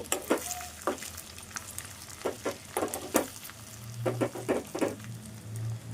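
An egg dish fries in oil in a home kitchen pan, spiced with roasted coriander powder, with a soft steady sizzle and intermittent scraping stirs of a spatula close by.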